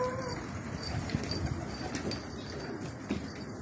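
Pigeons coo faintly and intermittently in an outdoor setting near a rooftop, with low soft calls scattered over a steady background hiss and no voices.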